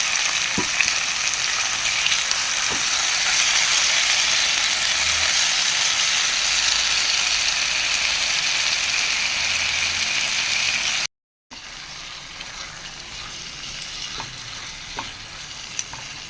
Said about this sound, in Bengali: মশলাটা কষা কষা হয়ে গেছে, এখন চর্বিগুলো দিয়ে দেবো।